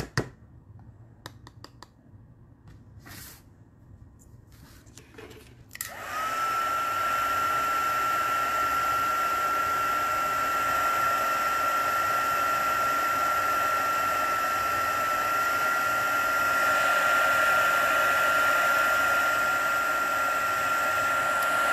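A heat tool blows steadily, warming embossing ink on a Stampin' Up! nature-circle bookmark. After a few quiet seconds of small handling clicks, a loud constant whooshing hum starts and runs on unbroken to the end.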